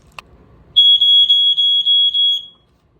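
Smoke alarm sounding a rapid series of about seven shrill high-pitched electronic beeps in quick pulses, close and loud, after a brief click, then silence.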